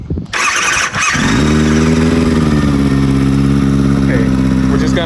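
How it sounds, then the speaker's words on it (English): A motorcycle engine cranks and fires after a few rough starter bursts, then settles into a loud, steady idle heard up close, with a voice briefly audible over it. "start the bike up"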